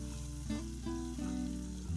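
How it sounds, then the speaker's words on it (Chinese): Minced garlic and onion fry in a hot wok with a loud, steady sizzle and crackle, and occasional scraping stirs break through the hiss. "先把蒜末和洋葱下锅炒香"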